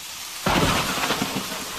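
A heavy downpour hisses steadily as a loud rumble of thunder breaks in abruptly after a short pause and rolls on under the rain, with no voices.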